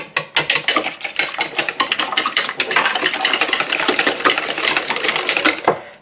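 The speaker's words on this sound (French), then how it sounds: "on prend un fouet et on mélange tout ça" A whisk beating a tomato mozzarella tart filling in a bowl, fast, steady metallic ticking and scraping strokes that run continuously and close up for several seconds, with no talking.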